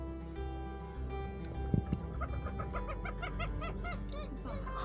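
Ducks at Lake Apopka in Florida calling with odd, monkey-like chattering, a rising series of repeated squawks that builds in the second half over a steady low hum, with no talk.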